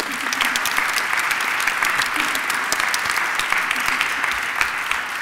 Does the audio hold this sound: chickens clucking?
no